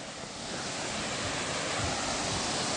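Sojeongbang Falls on the coast of Jeju, a continuous loud broadband roar of falling water, steady and close, with no voices.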